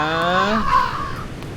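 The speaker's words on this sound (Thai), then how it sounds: "อีกา" A crow caws in the cornfield of the horror video game Siren Head Field, one loud, harsh, close call lasting about a second, followed by a fading tail.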